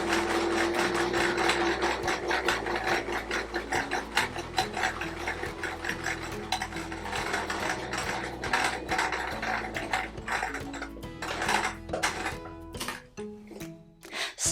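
A sewing machine stitches a Peter Rabbit patchwork quilt around the path and vegetables of a Mr. Benjamin Bunny design, running in a steady mechanical whir with rhythmic needle clatter, close and continuous, easing into brief stop-start bursts near the end.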